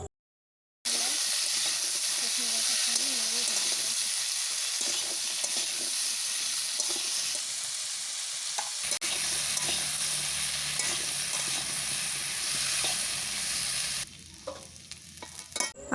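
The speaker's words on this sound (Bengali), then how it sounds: "লবণ আর হলুদ গুঁড়ো দিয়ে ভালোভাবে নাড়াচাড়া করে আলু আর সজনে ডাঁটা ভেজে নেব।" Potato pieces and drumsticks fry in a kadai with salt and turmeric, a loud continuous sizzle with repeated stirring scrapes that quietens near the end after a short silent start.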